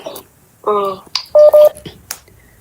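An incoming call on a phone sounds as short, bright electronic tone bursts in a quick ringing pattern, close and fairly loud, with brief sounds between the rings.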